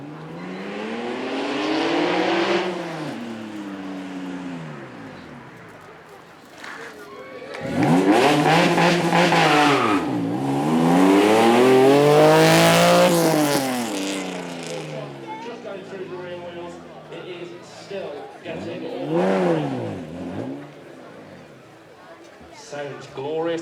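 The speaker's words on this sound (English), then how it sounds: "Sounds glorious as well, that V6." A 1991 V6 car, one of only 20 JTC editions built, revs and accelerates on a track at a supercar event. Repeated rising and falling engine sweeps come and go, some near and loud, with an announcer talking over them.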